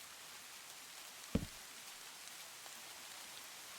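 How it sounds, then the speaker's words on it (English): Heavy rain falling in a video game, a dense, steady wash of hiss throughout with one brief low thump near the start, no voices. "Oh, it's raining quite heavily."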